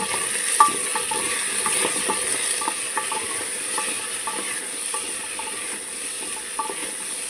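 Taro being sautéed in a pan for a meat curry, a steady close sizzle with repeated light scraping and stirring strokes throughout, no voices.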